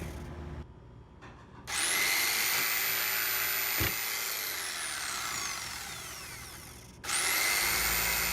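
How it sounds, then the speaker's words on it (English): A small power jigsaw cuts a cope joint in wooden trim, whining loud and close in a long continuous run. The motor stops briefly, then the saw starts up again. "Then we're gonna come back with my little jigsaw or saber saw and cut that away."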